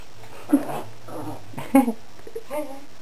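A dog plays and chases a ball, giving several short whimpers and yips with quick panting in between, recorded close by in a quiet room.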